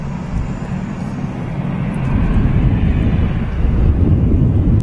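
A Lufthansa airliner in retro livery approaches to land, a low broad engine rumble building gradually and growing louder and closer toward the end, with no talk.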